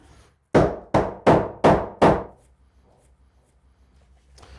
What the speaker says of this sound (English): put the wedge in place, drive it in there, pulling the stud forward as I go